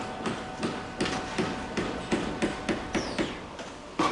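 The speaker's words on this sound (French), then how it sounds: "La partie inférieure n'est pas conçue pour être tapée avec le marteau." A hammer strikes a steel shoring prop in about a dozen sharp, ringing metallic taps at an uneven, roughly half-second pace, fairly close and clear with no talking.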